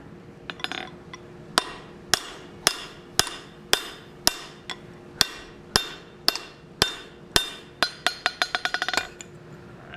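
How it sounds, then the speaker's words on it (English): Loud metallic hammer blows ring out one after another at a steady pace, driving a hot drift while forging a hammer, then speed up into a quick flurry of strikes near the end. "Use our hammer to drive that down"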